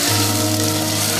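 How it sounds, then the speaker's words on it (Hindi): Chicken with dried plums (aloo bukhara) sizzles steadily in a pot, a continuous close hiss of hot oil with a low hum beneath and no talk. "इसमें ये खुश्क आलू बुखारे शामिल कर देंगे और इसको अच्छी तरह से"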